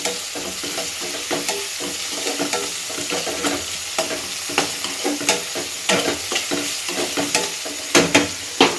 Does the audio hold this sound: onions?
yes